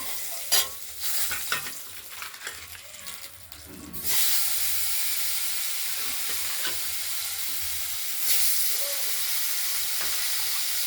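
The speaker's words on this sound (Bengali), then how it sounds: "মশলাটা ভাজা হয়ে গেছে।" Spices frying in a pan for a Bengali catla fish curry with beans and potato: scrapes and clinks of stirring first, then a loud, steady close sizzle that swells again near the end, with no talking.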